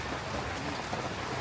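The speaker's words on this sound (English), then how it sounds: "after seeing the rain outside, we changed our minds" Rain falls outside in Danang, Vietnam, on a rainy day, a steady, even hiss of drops hitting surfaces that holds constant and fairly quiet for the whole moment with no voices.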